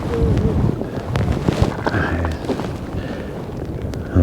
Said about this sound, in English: the wind's got stronger as well